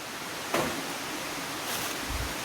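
Steady rushing wash of a river in Saint Ann, Jamaica, a broad continuous roar filling the scene, with a couple of brief louder swells and no voices.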